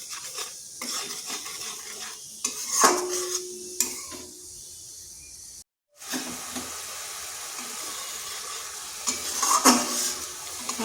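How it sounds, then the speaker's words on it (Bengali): Spice paste stir-fried in a wok, with a spatula scraping and clanking against the metal over a bubbling sizzle, broken by one brief silent gap before the stirring resumes. "এরপর মশলাটা বেশ কিছুক্ষণ কষে নিচ্ছে"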